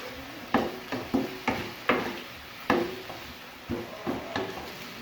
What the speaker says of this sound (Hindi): नमक, ब्लैक पेपर पाउडर। इनको अच्छी तरह से मिक्स करेंगे।